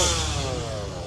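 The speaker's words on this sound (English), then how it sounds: "the chainsaws are out." Gasoline chainsaws running at a nighttime haunted house event, a steady buzzing engine drone filling the moment, loud and close with no voices over it.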